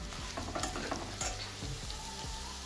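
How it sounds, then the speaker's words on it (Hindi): Soaked soybeans and onions sizzle in a pan for a vegetable biryani, with a steady frying hiss and a few scraping stirs of a spoon against the metal, close and continuous. "अब हम इसमें ऐड कर देंगे प्याज में, और थोड़ी देर गाइज इसे चलाएंगे"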